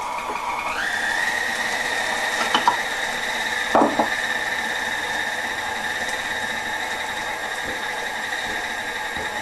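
A kitchen grinder whirring through fresh basil for pesto, its motor spinning up at the start and then holding a steady whine throughout, with a few faint clicks and knocks partway through.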